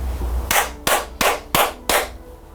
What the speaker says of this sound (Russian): Правильно, хлопки.